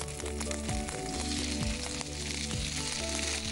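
Chopped onion sizzles steadily in hot mustard oil, a dense close crackle with no talk, while a sustained musical tone plays underneath.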